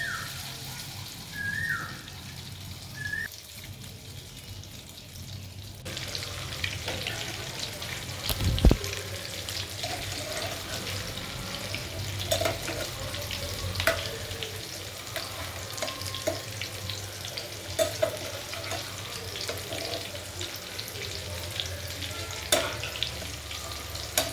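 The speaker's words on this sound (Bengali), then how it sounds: "পাউরুটিগুলোকে ডিমের ব্যাটারের মধ্যে ভালোভাবে ডুবিয়ে তেলে ছেড়ে দিব" Egg-battered bread fingers drop into hot oil. After a quiet opening with a dull thump, a steady sizzle builds and carries on with scattered crackles and pops.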